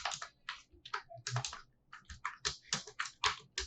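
Rapid typing on a computer keyboard while writing HTML and CSS code, with clear, close keystrokes in quick irregular bursts and brief pauses, and no voices.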